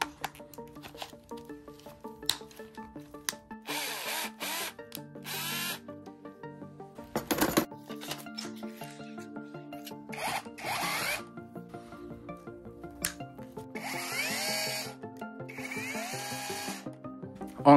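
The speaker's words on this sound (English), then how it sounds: "I came back home with two rotary hammer drills" A 12V Parkside cordless rotary hammer drill whirs in short bursts and longer runs, with clicks and handling noise between, close and fairly quiet.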